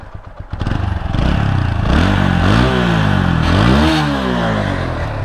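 Revving an Apache RTR 160 4V motorcycle in neutral: after a short idle the engine climbs in two or three loud, close throttle blips, pitch rising and falling before it settles back into a high, steady drone.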